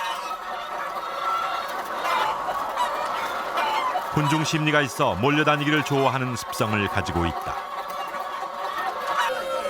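Caged laying hens clucking and squawking in a crowded shed, a burst of loud, close calls in the middle over a constant barn din, with a narrator talking throughout.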